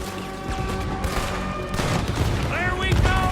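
Cannon blasts aimed at a boat in Red Dead Redemption 2: heavy booms and crackling gunfire overlap under a constant battle din, with shouting voices mixed in.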